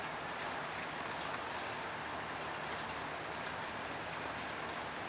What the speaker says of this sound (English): It's raining, it's freezing out